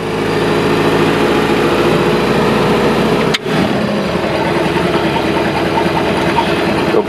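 A boat's stern drive engine idles steadily at low RPM, a loud, continuous low rumble with a brief dip in the middle before settling back into the same even idle.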